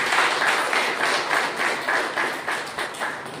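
A church congregation claps in rhythm during a praise service, a steady pattern of roughly two claps per second, close and moderately loud, continuing for a few seconds without speech.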